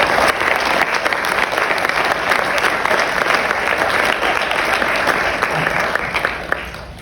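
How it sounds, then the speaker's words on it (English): Graduation audience applauding, a dense sustained roar of many hands clapping that fills the whole stretch and tapers slightly at the end. "please give yourselves a round of applause"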